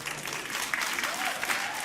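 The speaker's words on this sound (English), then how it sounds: "Why are you clapping for them?" A church congregation applauds for newly married couples, a steady wash of many hands clapping from across a large room, with a few faint voices mixed in.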